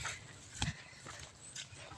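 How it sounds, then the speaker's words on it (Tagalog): A dog whimpers and yips after being left behind on a farm walk, brief high cries rising over quiet outdoor background, fairly faint and intermittent. "ang kulit ng aso na to. Kasi iyak-iyak pag naiwan."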